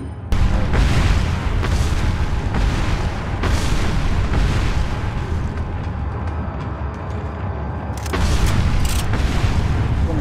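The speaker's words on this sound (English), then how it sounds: "Probably makes sense just to reload the Striker and shoot him again." Striker shotgun blasts at a Gigante in the video game Resident Evil 4, loud booming shots with heavy low rumble that hold steady through the clip, and a fresh sharp burst near the end.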